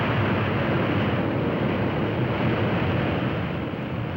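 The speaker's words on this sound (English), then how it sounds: "you hear the engines roar soon after you're on the ground, remember that's what he's doing, reversing the props to stop the airplane" Airliner engines roar with the propellers reversed for braking just after landing: a loud, dense, unbroken rumble and rush of air running steadily from start to finish, with no voices.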